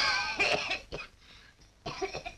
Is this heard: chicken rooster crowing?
no